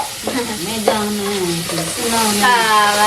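Tomatoes sautéing in a pan give a light sizzle, with a spoon scraping and stirring through them, close and fairly loud, while someone speaks over the cooking throughout.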